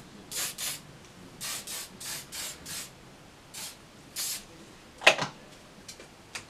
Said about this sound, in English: So, I got some oil sheen to spray in it.